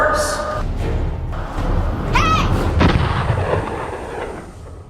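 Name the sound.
gunshot during a robbery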